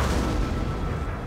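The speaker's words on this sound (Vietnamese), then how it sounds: "Pháo của mình thì tốt nhất là vẫn cho nên bắn như những cái khu vực bên này." Artillery cannons in Napoleon: Total War fire in a loud, close, rumbling barrage with heavy low booms blending into one another, and no voices over them.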